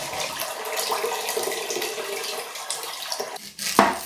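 Water poured into a pot of beans for Boston baked beans, a steady splashing trickle running for about three seconds before a brief louder slosh near the end.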